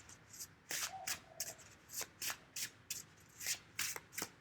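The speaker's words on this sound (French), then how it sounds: "On va encore sortir des cartes de plus, des sabres." Tarot cards are handled and drawn from a deck, giving a series of quick, crisp papery snaps and slides close by, about a dozen sharp bursts in an uneven rhythm.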